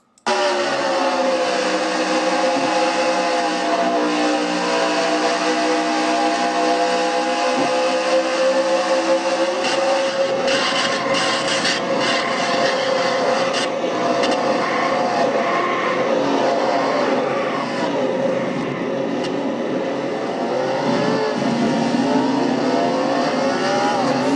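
Onboard a Shelby 427 race car during a Castrol GTX Cup Series race, a loud, sustained engine roar with shifting pitch as the car accelerates and lifts, continuous throughout.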